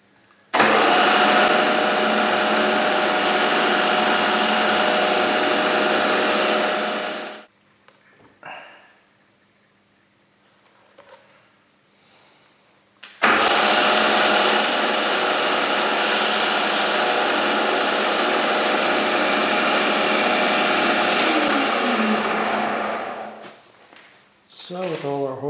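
A machine drills holes into a test tube holder, running loud and steady for about seven seconds, falling quiet, then starting again for a second long stretch of drilling.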